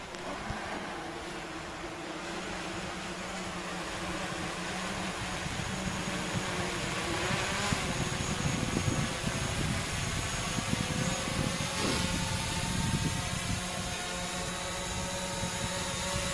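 A DJI Mavic drone flying in sport mode gives a steady whining propeller buzz that swells and fades slightly as it moves, heard outdoors at moderate distance with no talk.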